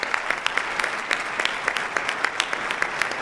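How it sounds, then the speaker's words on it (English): An audience at a university honors convocation gives a steady round of applause, with scattered sharp individual claps standing out over the continuous patter. "Students, we can give her a round of applause."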